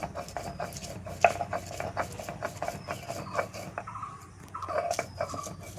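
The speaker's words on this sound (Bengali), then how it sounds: "পেঁয়াজ, লঙ্কা, রসুন, সরিষা আর আদা দিয়ে সব বাটছে" Onion, chili, garlic, mustard and ginger being ground into a spice paste on a grinding stone: steady, rhythmic rasping scrapes with occasional clatter, close and continuous.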